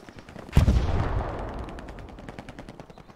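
Machine gun fire in the WWII shooter Hell Let Loose: a loud close burst lands at once, then trails off into a fast, thinning rattle of shots and echo that fades over the next few seconds.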